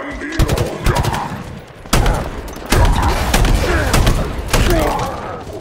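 Heavy shotgun blasts in Halo Infinite, several booming shots spaced unevenly over a few seconds among other loud game noise, close and forceful.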